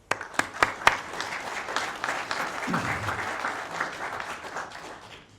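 A few sharp, isolated claps open, then a room full of people at a networking organisation gathering breaks into steady, moderately loud applause that carries on evenly to the end.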